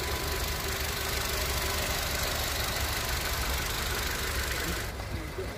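A car engine idles at a used car market, among vehicles including a 2009 Chevrolet Cruze with a two-fuel gas engine; a steady, loud mechanical hum and rumble runs throughout with faint background voices.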